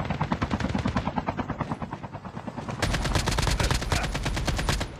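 Rapid automatic gunfire in Call of Duty Mobile battle royale, close bursts of rattling shots that break off briefly and then resume as a steadier, denser stream.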